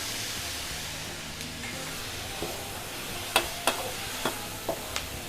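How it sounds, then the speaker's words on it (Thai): Garlic and chili being stir-fried in a pan in a Thai kitchen: a steady close sizzle with a handful of sharp scraping clicks of the spatula near the end, no voices. "กระเทียม กับพริกของเรานะคะผัดให้เข้าเข้ากันด้วยค่ะ"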